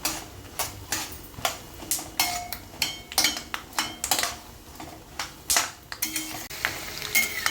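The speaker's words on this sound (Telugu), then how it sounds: "శనగగుండ్లు కూడా కొంచెం తాలింపు గింజల్లాగే కొంచెం గోల్డ్ కలర్ వేగాలి" Chana dal frying in oil over a medium flame for a Telugu puffed rice snack, giving a quiet, steady sizzle broken by repeated light clicks and scrapes of stirring, close and without talk.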